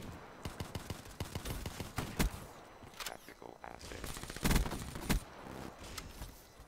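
Rapid bursts of automatic gunfire from a Black Ops 3 match, sharp repeated shots in clusters with a louder volley near the end, fairly close and loud.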